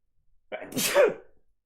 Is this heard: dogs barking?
no